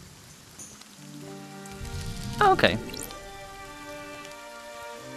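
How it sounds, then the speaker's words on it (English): Rain in the VR game Deisim: a steady soft patter of falling rain with a brief louder splash burst in the middle, over a held musical tone, while a person speaks briefly. "Rain!"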